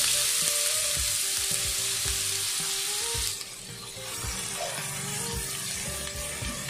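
Onions sizzle loudly in a hot pan while fish fillet with tofu and fermented black beans is being prepared. The frying hiss is strong and continuous, then eases to a lower simmer partway through.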